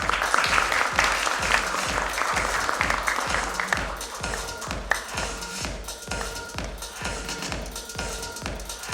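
Sustained applause from a nursing conference audience in a Mumbai hotel hall, a dense crowd of clapping hands that holds steady and eases slightly toward the end, with no talking.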